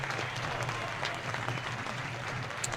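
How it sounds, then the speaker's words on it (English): A stadium crowd at a Valparaiso high school football game on Patriot Night applauds the honorees, a steady, fairly distant wash of clapping with scattered cheers that continues without pause. "another round of applause for all the honorees here tonight at Valpo on Patriot"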